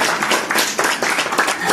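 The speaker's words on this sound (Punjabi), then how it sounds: "ਇਹਨਾਂ ਦੀ ਤਾੜੀ ਲਾ ਦਿਓ" An audience at a Punjabi literary award ceremony applauds the chief guest, a short burst of dense clapping that is loud and close throughout.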